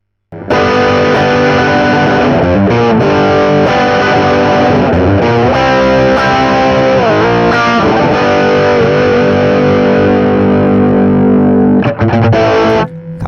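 Electric guitar through a Friedman Dirty Shirley overdrive pedal, a sustained distorted chord and melodic phrases ringing loudly and continuously, then cutting off abruptly near the end.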